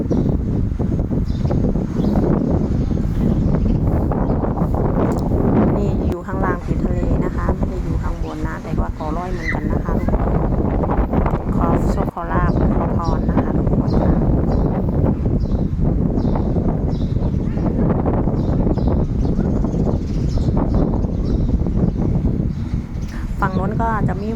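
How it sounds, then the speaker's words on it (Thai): Strong wind buffets the microphone on Ko Loi island in Sriracha, a constant loud low roar running the whole time, with someone talking over it throughout. "ใส่หมวกก็ไม่ได้ผิวนะคะเพราะลมแรงมากนะคะทุกคน"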